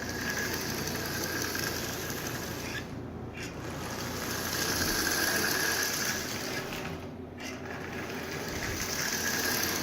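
A Marx 666 toy train locomotive runs steadily with a continuous mechanical motor whir and rattle, swelling and easing in loudness, with two brief dips where the sound thins out.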